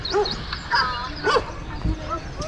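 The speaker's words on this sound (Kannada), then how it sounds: "ಯಾವುದಕ್ಕೂ ನಾಯಿ ಸೌಂಡ್ ಜಾಸ್ತಿ ಕೇಳಿಸ್ತೈತೆ" A dog on a hillside hike in Ramanagara gives several short yips and whimpering barks at a distance, spaced irregularly over a quiet outdoor background.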